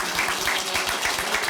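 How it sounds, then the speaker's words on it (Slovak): Audience applause at the Codecon 2026 tech conference in Slovakia: a dense, steady wash of many hands clapping together, holding at an even level throughout with no voices on top. "čiže potlesk"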